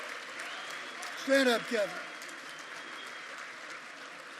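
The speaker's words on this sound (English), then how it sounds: "How about a round of applause for Kevin Greene?" An audience at a sports awards ceremony claps in a steady, distant wash of applause for former Green Bay linebacker Kevin Greene, while someone speaks briefly over it.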